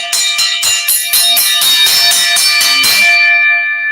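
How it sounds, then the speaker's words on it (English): A bell rings loud and close in a rapid series of about a dozen bright metallic strikes, then the final stroke rings on and fades out alone. "I'm waiting for the bell to subside because it kind of messes up the audio there."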